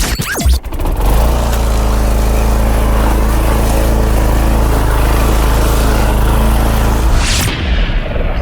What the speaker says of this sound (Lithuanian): Žoliapjovė, bet nežinau, Husqvarna